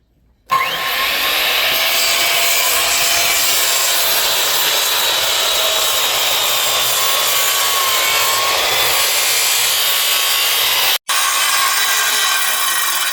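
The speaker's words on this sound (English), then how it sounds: "we'll just take a jigsaw and cut out the corner pieces" Jigsaw cutting wooden deck stair risers, a loud continuous buzzing rasp of the reciprocating blade through wood, running steadily for about ten seconds, stopping briefly, then resuming.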